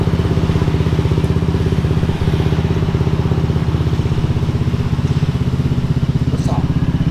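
A Honda ADV160 scooter engine runs steadily and close by, with an even, buzzing pulse at a constant level and no clear revving.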